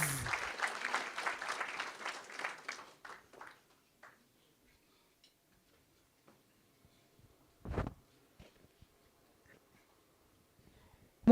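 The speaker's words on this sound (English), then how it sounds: "Give a round of applause." An audience at an unveiling event breaks into applause that swells for about three seconds and then fades away, leaving near silence broken by a single brief thump and faint shuffling.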